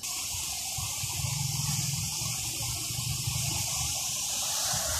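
Water pours through the head of the Thal canal in rural Punjab, Pakistan, a steady broadband rushing hiss with a low rumble beneath, continuous and fairly loud with no voices.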